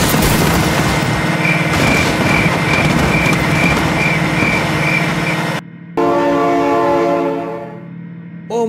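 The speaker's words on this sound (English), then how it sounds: "my god, train!" A train in the BeamNG.drive driving game rumbling past loud and close, with a steady pulsing horn-like tone, a brief cut, then a shifting harsh whine as it continues.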